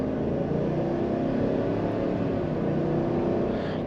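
A 2022 Chevrolet Suburban LT with a 5.3L V8 and rear-wheel drive strains under acceleration inside the cabin, its heavy engine drone steady and continuous, with road noise and no talk over it.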